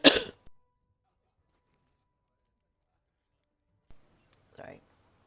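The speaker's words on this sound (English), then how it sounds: "Talking makes me cough." A sharp cough bursts out at the start, then quiet, followed by a couple of softer, brief throat sounds near the end.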